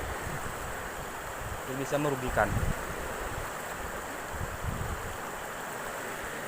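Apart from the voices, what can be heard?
flowing river stream being crossed on foot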